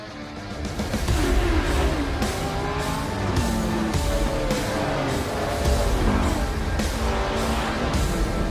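A 1965 Shelby AC Cobra with a V8 engine laps the Nordschleife, its loud engine roaring steadily as it revs up and down through gear changes, heard from close on board.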